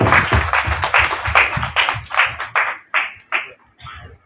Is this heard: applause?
yes